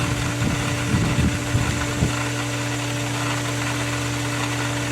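A pool filter pump runs a backwash, giving a steady, loud motor hum with rushing water. A few faint clunks come early on, then the drone stays constant and even to the end.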